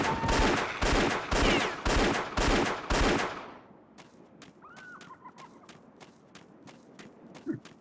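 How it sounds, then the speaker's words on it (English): Five loud rifle shots in the video game Indiana Jones and the Infernal Machine ring out in quick succession over the first three seconds, followed by quieter ambient game sounds, faint footsteps and a few small bird-like chirps. "Get your rifle out and hit them while they're falling."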